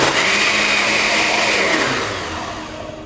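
A blender whirs steadily at high speed, churning a shake with milled golden flax seed and frozen blueberries, its loud, even motor whine close and alone before tapering slightly.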